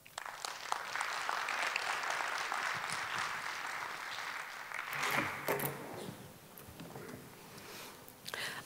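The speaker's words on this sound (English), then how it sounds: "a massive round of applause." Conference audience giving a keynote speaker a big round of applause, dense sustained clapping from a large crowd in a hall that fades toward the end.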